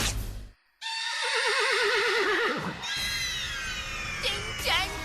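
A horse named Toofan whinnies loudly in a long, wavering neigh over a backdrop of cartoon music and effects, followed by more high squealing whinny bursts near the end.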